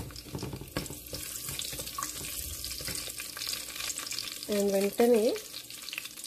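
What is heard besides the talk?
green chillies sizzling as they are fried in a pan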